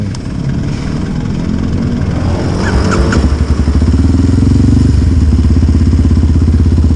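Motorcycle engine running rough and sputtering, as if fed poor-quality fuel, loud and close with a deep uneven rumble that settles into a steadier, pulsing idle toward the end.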